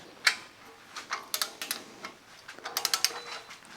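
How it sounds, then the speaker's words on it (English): A torque wrench tightens the bolts of a Holley 302-1 LS-swap oil pan on a BMW E46 drift car, giving quick ratcheting clicks and metallic ticks in irregular close bursts, without speech. "Let's torque these down to 18 foot-pounds real quick."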